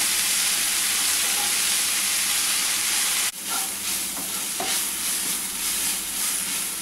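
Finely chopped onions with a little salt sauté in a hot pan with a steady broadband sizzle, briefly interrupted by a sharp stir partway through, then continuing with light scraping and crackle.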